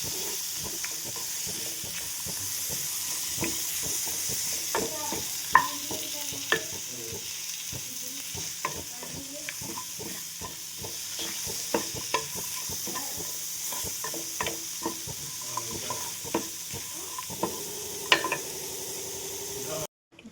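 Spices and coconut are sautéed in a pan for brinjal gravy. A continuous frying sizzle carries on for about twenty seconds, broken by frequent sharp ladle taps and scrapes as the mixture is stirred.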